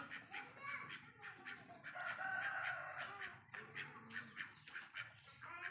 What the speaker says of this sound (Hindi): ये हमारा मुर्गा बाहर आ गया।